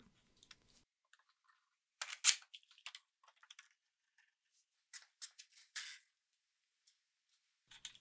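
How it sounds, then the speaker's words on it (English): Clamps being tightened down on freshly glued joints of salvaged old furniture give a few short, sharp clicks and ratcheting bursts in scattered clusters, fairly faint, with quiet gaps between and no talking. "I'll get the clamps on and tighten them all down and let it dry overnight."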